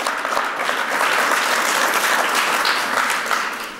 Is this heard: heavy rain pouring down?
no